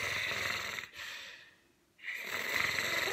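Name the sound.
voice imitating snoring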